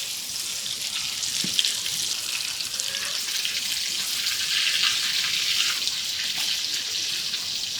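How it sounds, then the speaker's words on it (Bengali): Small fish frying in a pan, a continuous close crackling sizzle with dense hiss and occasional pops, steady and fairly loud throughout with no voices. "মাছগুলো উড়াই দিয়েছি এখন অফার সাইড আবার ভাজতে আছি"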